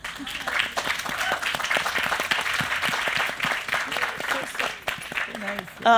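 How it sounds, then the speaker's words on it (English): Applause from an audience at a literary festival event celebrating the Begum, a steady dense patter of clapping with voices mixed in beneath it, fairly close and sustained throughout. "I think we need a clap for that"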